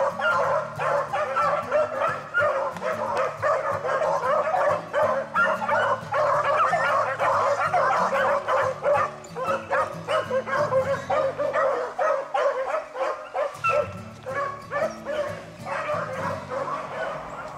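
A pack of hunting dogs chasing a long-legged swamp rabbit in Louisiana, baying, yipping and whining almost continuously, loud and near, with overlapping voices and short lulls.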